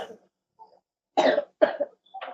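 Several harsh coughs close by, a couple of isolated bursts followed by a quick pair, with brief silences between.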